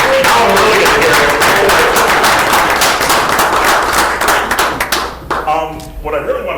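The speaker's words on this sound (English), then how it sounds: "Can we give him a round of applause?" Round of applause at a city council meeting, loud and dense clapping filling the room, then thinning and tapering off near the end as a voice begins.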